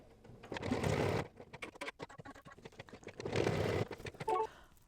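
An embroidery machine stitching white thread for the eyes on a mug rug, a fast mechanical needle chatter in close bursts with short pauses between runs.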